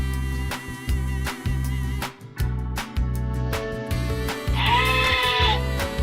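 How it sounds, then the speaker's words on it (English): Sheep bleating on a farm, a series of loud, close baas repeating in a steady rhythm with brief pauses between calls, with no talking. "A loud baa might mean a lamb is calling for its mommy sheep."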